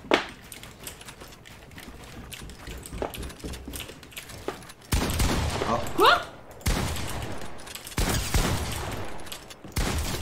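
Gunfire in the Fortnite video game, rapid bursts and scattered shots over several seconds, loud and close, with two people talking between and over the shots.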